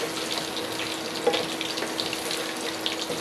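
Eggplant slices sizzle in hot oil, a steady close hiss with faint crackles and one brief pop, no voices.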